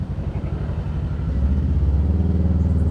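A Bristol Venturi 500 motorcycle engine rumbles deep and steady, swelling louder toward the end like a big bike, with no talk over it.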